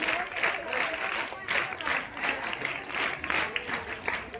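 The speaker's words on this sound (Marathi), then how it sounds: "बाळांनो, जोरदार टाळ्या झाल्या पाहिजे अर्णवसाठी।" Children at a school prize-giving ceremony break into loud, sustained applause, the clapping swelling and pulsing in bursts as a nearby voice speaks over it.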